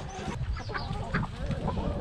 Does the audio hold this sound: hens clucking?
yes